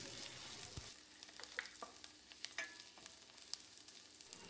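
Onions sizzle and crackle in a hot pan, a steady frying hiss with scattered pops and a few stirring clicks, no voices, sautéed until translucent for a parotta kurma gravy.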